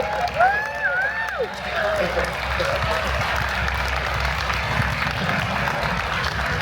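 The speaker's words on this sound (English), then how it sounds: "can everyone please give a round of applause for all." Audience applause fills a QuakeCon case mod contest hall, a steady broadband roar of clapping with some crowd noise and whistle-like tones early on, continuing at an even level throughout.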